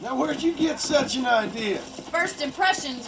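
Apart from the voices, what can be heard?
No everyday noise stands out behind the speech.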